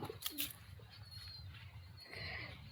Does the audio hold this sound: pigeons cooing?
yes